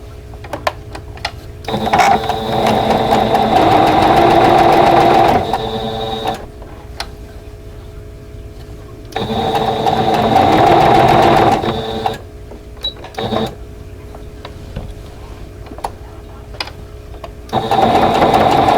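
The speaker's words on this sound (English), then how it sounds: "So I'm going to match points and get this all sewn together." A sewing machine stitches quilt block pieces together for a vintage tulip block, running in three loud steady bursts of a few seconds each, with quieter handling clicks and pauses between.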